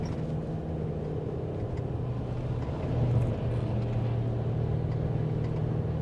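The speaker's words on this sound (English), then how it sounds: "Going uphill, the engine does drone a little bit." Toyota Sienna engine droning while climbing uphill on a night drive, a steady low hum inside the cabin that swells slightly partway through, with no talking.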